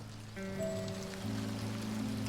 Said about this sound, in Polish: Deszcz w realu jest epicki, w grach nie za bardzo epicki.